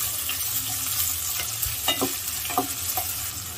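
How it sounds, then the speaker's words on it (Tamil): Sliced onions sautéing over a medium flame for veg pulao: a steady close sizzle with several distinct spatula strokes and scrapes toward the end, and no voices. "ஸோ ஆனியன்ஸ் எல்லாம் நல்லா இப்போ வதங்கிடுச்சு."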